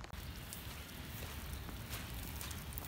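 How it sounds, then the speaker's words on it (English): Steady rain falls outdoors during a downpour under flood warnings, a dense, even hiss of drops with a faint crackle running without pause throughout, fairly quiet and without voices. "It's raining right now. It's supposed to be raining all day."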